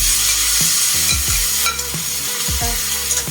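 Meat sautés in a pan with onions, giving a loud, steady sizzling hiss throughout, with a few dull scrapes and knocks from stirring and no voices.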